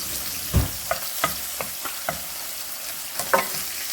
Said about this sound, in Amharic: እዚህ ውስጥ ትንሽ ሽንኩርት እናደርግና ትንሽ ጠበስ እናደርገዋለን